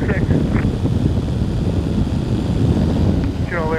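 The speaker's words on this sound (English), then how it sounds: "Oh, or yeah, an airplane there." A light airplane flies near an airfield in Hawaii, a steady engine drone running under the whole stretch along with wind noise, while people talk over it.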